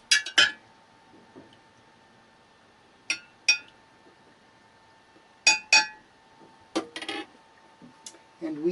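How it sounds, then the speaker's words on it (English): Kombucha with its scoby is stirred in a vessel aboard a traveling sailboat, giving scattered clinks and taps of a utensil against glass in short bursts with quiet gaps between, plus a faint steady hum underneath. "we're putting this Scooby back in, and he acts as our yeast. We'll give it a little bit of a stir"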